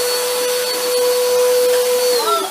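A faulty household vacuum cleaner runs with a steady, loud whine and motor drone that holds for a couple of seconds, then its pitch sags near the end as if the motor is straining, with no talking.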